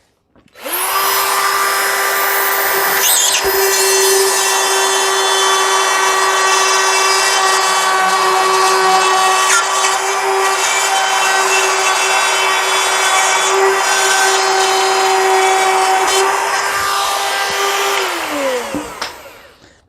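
A Craftsman 20v Rotozip spins up and cuts a box out of drywall: one continuous high whine with a gritty grinding edge, steady for about eighteen seconds before winding down, close and loud.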